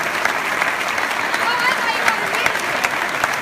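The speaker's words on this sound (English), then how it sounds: "Everybody's giving you a standing ovation." An audience gives a standing ovation at an awards acceptance speech, a dense and steady wash of applause from a large crowd that continues without a break.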